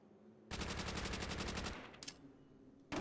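Automatic gunfire in Call of Duty: World at War, a rapid burst of about a second, followed by a few isolated shots and another burst starting at the end, loud and close with no talking.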